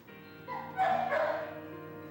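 A dehydrated rescued female dog with a rough coat whimpers softly in short, thin whines that swell briefly in the middle, alone and close.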